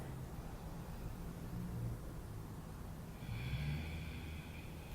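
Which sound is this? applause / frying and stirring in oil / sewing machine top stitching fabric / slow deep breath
slow deep breath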